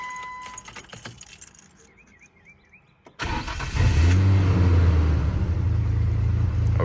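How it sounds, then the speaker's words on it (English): Keys jangle in the ignition of a Nissan G35 fitted with PPE headers and a Motordyne catback, then the engine cranks and catches at once. It settles into a loud, deep, steady idle close by, with no talking. "when I go to turn my car on, this is what I get."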